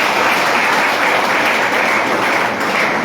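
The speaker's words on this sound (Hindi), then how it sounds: "मैं आप तमाम लोगों से गुजारिश करूंगा तालियों से इस्तकबाल करें" Audience applause welcoming poet Akram Jaunpuri at a flower-garland honouring event, dense continuous clapping from a crowd, steady and loud throughout with no speech.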